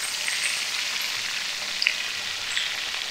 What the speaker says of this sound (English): Now that bacon's cooking down.